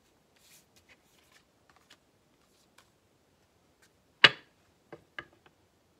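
Tarot cards are drawn from a deck in a quiet room: a few faint soft ticks and slides, then one sharp card snap followed by two lighter flicks, close and isolated.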